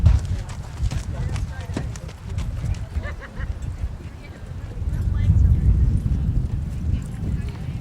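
Horse hooves clip-clopping on a trail during an endurance ride, an irregular run of close, sharp hoof strikes at first that fades under steady outdoor rumble, with people talking through the clip.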